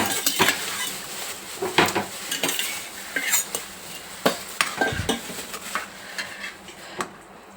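Boiled drumstick pieces are stirred into a simmering tamarind gravy curry with eggs, a spoon scraping and clinking against the pot in irregular bursts over a soft sizzle, close and fairly loud, with no talking.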